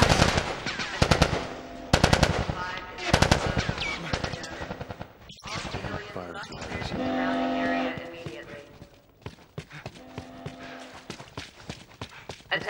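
Bursts of rapid gunfire in The Last of Us Part 2 combat, loud and close, with repeated volleys mixed with shouting voices and game sounds.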